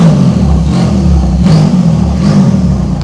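A Porsche engine revs in three rising bursts with a turbo whistle audible on each swell, loud and close over a continuous low engine rumble, with no talk.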